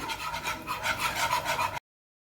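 Gram flour (besan) being stirred into boiling water in a pot gives a steady, rhythmic scraping and rubbing close by for about two seconds, then stops abruptly.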